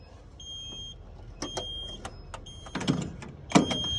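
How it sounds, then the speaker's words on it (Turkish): Electronic alarm beeps and tones from a button-triggered aerosol fire suppression system test on a transformer, in repeated bursts, mixed with clicks and clunks, at a moderate, steady level without speech. "Butondan alarm verdik."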